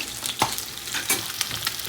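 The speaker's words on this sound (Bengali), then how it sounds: "মাছের জন্য এখানে আলু ভেজে নিচ্ছি আর এটার সাথে বেগুন ভেজে নিচ্ছি" Potato and eggplant pieces frying in oil for a Bengali fish curry, with a few quick stirring scrapes over a low, close sizzle.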